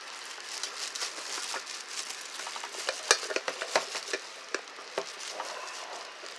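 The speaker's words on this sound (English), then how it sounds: "Oops, more unwrapping of the plastic." Plastic packaging crinkles and crackles as it is peeled off a Makita CM501DZ coffee maker and its metal cup, with a steady run of close, dense rustling and sharper snaps through the middle.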